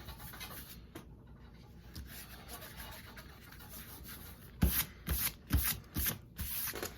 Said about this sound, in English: I can always come in here and erase my pencil lines.